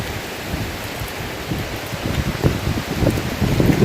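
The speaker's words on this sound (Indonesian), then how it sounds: "karena di sini sedang terjadi angin ribut" A strong wind storm gives dense, rushing noise with gusty rustling that swells and grows louder toward the end, heard alone with no speech.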